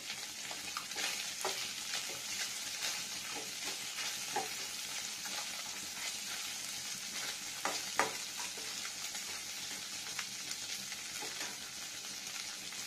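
Rohu fish curry frying with onion greens in a pan, a soft continuous sizzle with irregular scraping and tapping stirring strokes throughout, fairly quiet and without speech.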